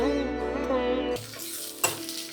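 Grated raw mango with chopped green chillies and coriander stalks stirred in a little hot oil: a steady close sizzle, then a sharp clatter of the spoon at about one second and a scraping knock near the end.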